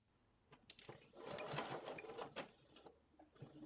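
A sewing machine stitches the center front seam of 18-inch doll capri pants in short uneven bursts, slow stitch-by-stitch runs with brief pauses between, close by and fairly quiet.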